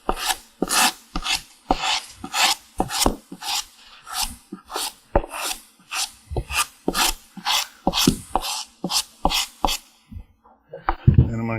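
A hand scratcher rasps across the wooden tree of a western saddle in quick, steady back-and-forth strokes, roughly two to three per second, close and crisp, with no talking until a brief handling clunk at the end.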